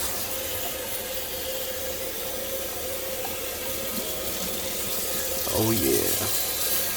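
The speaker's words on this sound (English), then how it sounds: "And then I'm going to let the cold water just rinse this off." Cold tap water runs steadily over a George Foreman stand-up grill, a loud continuous splashing rush close by, with a brief voice near the end.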